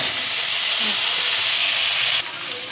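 Beans and potato tipped into hot oil with cumin seeds and a dried chilli, a loud, dense, steady sizzle close by that drops abruptly in level near the end.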